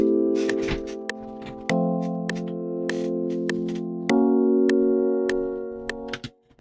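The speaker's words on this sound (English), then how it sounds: "So this is what the electric piano sounds like usually" Electric piano plugin with the effect bypassed, playing sustained chords with soft repeated attacks, clean and steady, ending in a brief fade.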